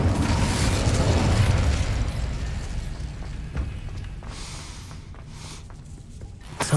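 Incendio fire spell in Hogwarts Legacy: a loud, rumbling blast that roars at once and slowly dies into a crackling, hissing tail, with a sharp pop at the very end.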